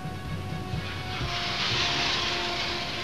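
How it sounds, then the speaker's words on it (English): An F-6 fighter jet makes a low firing pass at a Pakistan Air Force missile-firing camp, a loud, steady roaring jet rush that swells into a broad hiss as it passes, with no voices. "The F-6 aircraft is making its shooting stands"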